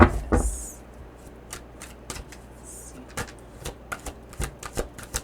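Energy cards are shuffled for a tarot-style reading, giving soft riffling bursts and sharp slaps of cards at irregular intervals, close and fairly quiet over faint room noise.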